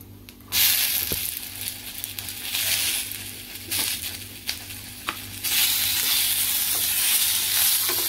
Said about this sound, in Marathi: याच्यामध्ये आपण टोमॅटो टाकूया परतायला